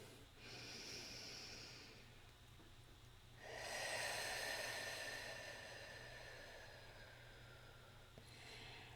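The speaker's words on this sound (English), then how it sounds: "Take a big breath in." One slow, deep breath is drawn in and let out, soft and close in a quiet room, with a steady airy hiss lasting several seconds and no talking.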